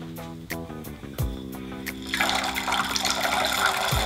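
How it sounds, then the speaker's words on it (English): Black-eyed peas tumble into a crock pot of water, a few soft plops and knocks followed by a louder, steady rushing splash as they pour in, close up, over a background of music. "I want you to take those peas, son, and I want you to put them on in the crock pot."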